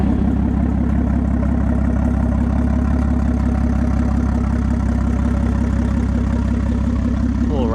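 A BMW M240i's engine runs steadily throughout, a loud continuous low rumble and drone heard from inside the car with no talking.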